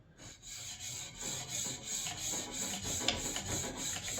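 Back of a plane iron rubbed against a DMT diamond sharpening plate, giving a steady gritty scraping in quick back-and-forth strokes, close and fairly quiet, with no talking.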